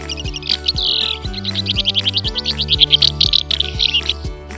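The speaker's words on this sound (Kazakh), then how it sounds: "Қарлығаш шықылықтайды." Swallow twittering: a quick run of bright, high chirps and short trills that repeats steadily for several seconds, close and clear over soft, rhythmic background music.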